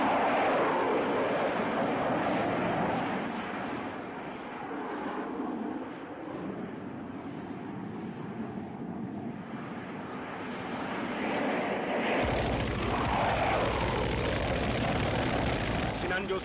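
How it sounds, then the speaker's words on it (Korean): Sabre jet fighters fly overhead with a continuous roaring engine drone that fades slightly in the middle and swells louder toward the end, heard under a narrator's voice. "이를 요격하기 위해서 유엔군 세이버제기도 용약 모함을 떠난다"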